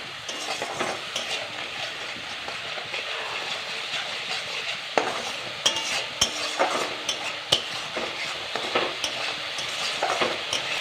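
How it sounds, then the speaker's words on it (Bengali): Spice masala with a little added water is sautéed in a pan for a Bengali bhetki fish and potato curry, a constant close sizzle with repeated scraping and knocking of a spatula against the pan. "একটু জল দিয়ে দেবো দিয়ে মশলাটা ভালো করে কষিয়ে দেবো"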